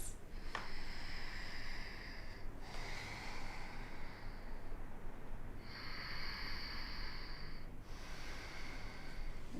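Slow, deep yoga breathing, with long airy inhales and exhales alternating in a calm rhythm, close and quiet with no talking.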